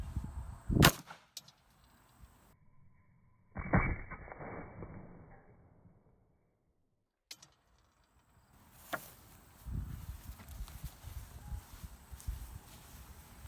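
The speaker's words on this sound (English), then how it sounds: "this time we're shooting Hornady 135 grain. This is the critical defense" A 9mm pistol fires Hornady 135 grain Critical Defense rounds into a 16-inch test block: two sharp, loud reports a few seconds apart, outdoors, with quieter handling noise and a muffled thud between and after.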